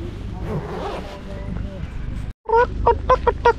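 Ducks with blue-coloured heads give several loud, repeated honking quacks in a quick rhythmic burst close by, following a stretch of people talking over background noise.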